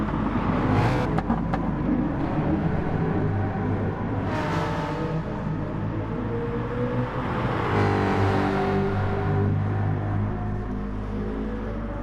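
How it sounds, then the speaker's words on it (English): Ford Mustang race cars in a racing video game, running together around the Fuji circuit: a steady, loud engine drone with rising and falling pitch as the cars rev and shift, plus a couple of brief whooshing passes. "Two Mustangs are racing together as a team, but not in a good way at the moment because they're both at the back"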